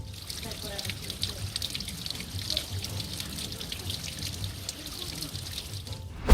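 A waterfall pours a constant deluge in front of a rock wall, heard as a steady rushing hiss and splash under a speaking voice, ending with a brief thump.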